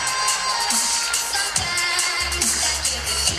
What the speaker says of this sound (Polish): Wielkie brawa, kochani!